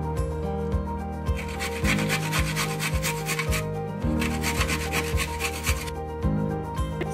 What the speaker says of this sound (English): We will be using the grater to grate baby carrots.